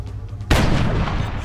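A single loud in-game gunshot from XCOM Long War fires against a Cyberdisc, a sharp boom followed by a sustained noisy rumble and decay.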